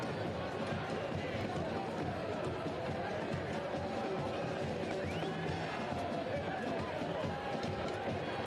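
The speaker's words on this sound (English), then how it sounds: "You hear the crowd now." A soccer stadium crowd roars steadily during a USL Cup match between the New York Cosmos and Portland Hearts of Pine, a dense, continuous wash of cheering under a commentator's voice.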